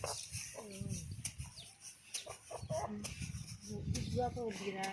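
Chickens and chicks cluck and call nearby, their short squawks overlapping with a person talking and some general outdoor bustle.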